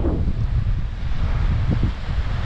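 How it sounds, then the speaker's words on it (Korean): Strong cold wind blows at a seaside beach, a loud continuous roar with heavy rumbling buffeting on the microphone and a faint wash of surf underneath, steady throughout. "여기는 너무 춥고 바람 불어가지고 안 될 것 같은데요."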